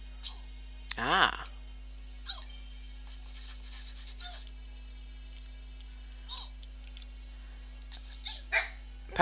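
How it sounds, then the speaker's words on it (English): A dog barks a few times in the background, short distant yelps scattered under soft speech and game sounds, with a steady low hum throughout. "sorry about the dog"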